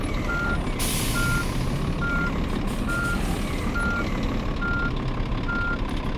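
A truck with a trailer backs up slowly, its reversing alarm beeping at a steady, regular pace over a low, continuous engine rumble, close by and with no talking.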